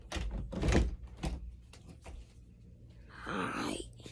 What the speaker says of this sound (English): Just gotta close this door.